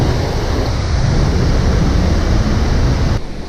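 Loud, steady rush of water beside a rail-trail bike path in Damascus, Virginia, a continuous broadband roar close by that holds nearly unchanged, then drops slightly in level near the end.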